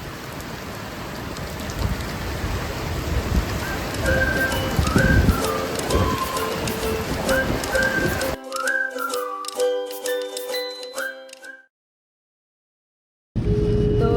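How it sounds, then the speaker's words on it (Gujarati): Steady rain patters throughout, with a bird cooing and chirping on top; the sound cuts out briefly near the end before the rain returns. "અને વરસાદ પણ એવો આવે છે, સિઝનનો એમ કહીએ ને પહેલો વરસાદ"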